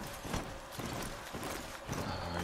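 Horse hoofbeats in the video game Horizon Zero Dawn clop in a quick, steady gallop rhythm, fairly close and continuous, under a wash of game ambience without talk.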